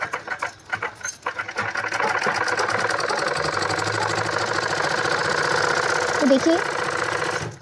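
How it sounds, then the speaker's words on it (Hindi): A sewing machine runs a straight seam on a baby boy's shirt or shorts, with a fast, even mechanical chatter close by. Brief speech and handling come first, then the continuous stitching. "अब मैं इसको यहाँ से यहाँ तक एक सीधी सिलाई लगा लूँगी"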